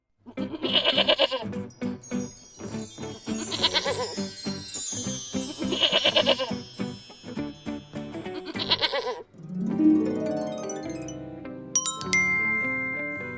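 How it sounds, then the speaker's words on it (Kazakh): Goat bleating: four long, wavering bleats rise over light music, each loud and near with short pauses between, followed by a quieter tail. "Ешкі."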